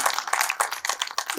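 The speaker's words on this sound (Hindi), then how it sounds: "हम खैर एक बार 4-5 अच्छे लोग तालियां बजाइए।" An audience at a Hindi poetry gathering claps in a quick, uneven patter of individual hand claps, moderately close and continuing throughout with no talk over it.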